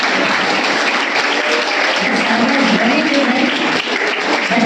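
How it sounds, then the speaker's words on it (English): Loud, continuous applause fills a school hall as an audience claps for a guest speaker at a literature conclave, many hands blending into a thick, steady roar throughout. "So let's all give a big round of applause for Ma'am."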